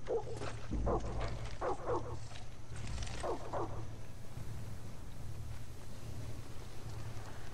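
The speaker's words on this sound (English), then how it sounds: "Hey, dog." A dog in Far Cry 6 gives a few close barks and whimpers in short bursts over the first four seconds, then falls quiet under a steady rain-like ambient hiss and low hum.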